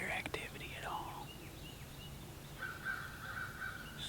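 Crows caw in the distance, a few harsh calls scattered across a quiet outdoor background in the Tennessee woods during deer season.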